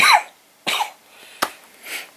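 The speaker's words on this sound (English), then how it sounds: "The cough has started up again." Several short, harsh coughs, close and loud, separated by brief pauses, with a throaty rasp.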